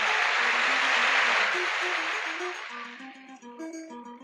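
An audience at a northern Thai folk fiddle performance applauds in a loud, dense burst that fades over a few seconds as plucked and bowed melodic notes take over.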